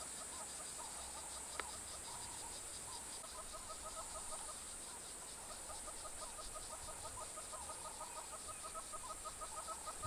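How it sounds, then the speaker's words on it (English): Repeated hooting hornbill calls sound from a distance in a steady rhythm, over a constant high-pitched drone of cicadas. "the hornbills in the background"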